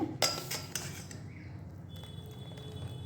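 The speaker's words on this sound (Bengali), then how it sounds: "এই যে ঢেলে দিলাম এইভাবে সবটাই আমি একটুখানি মিশিয়ে নিচ্ছি" A spoon works through a thick mango mixture in a bowl, giving a couple of bright clinks against the vessel at the start, then softer scraping and stirring noises that fade toward quiet, with no voices.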